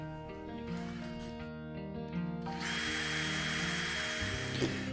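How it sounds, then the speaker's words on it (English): A power drill whines as it bores out a small plastic tab on a Kobalt 40V blower, a loud tonal buzz that shifts pitch as the bit bites, close up. "let's go ahead and drill out the other little plastic tab"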